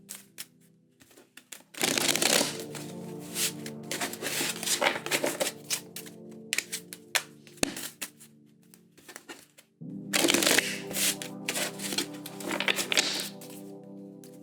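Tarot cards shuffled by hand in two bursts, a dense papery riffle and patter running for several seconds, pausing, then starting again near and fairly loud.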